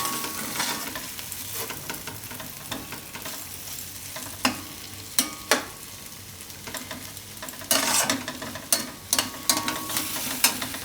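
Cauliflower simmering in a Gujarati yogurt curry in a pan, a soft continuous sizzle punctuated by occasional louder scrapes and knocks of stirring, with no talking.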